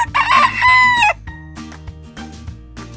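A rooster crows loudly and clearly, followed by softer clucking and background farmyard chatter from other fowl.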